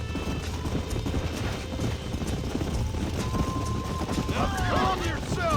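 Horses in the Red Dead Redemption video game clip-clop and gallop steadily, ending with a loud whinny, under a continuous rumble of hooves and game ambience, with voices speaking over it.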